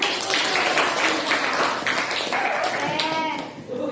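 A school class claps their hands together in a burst of applause, close and lively, with a few voices speaking over the clapping toward the end.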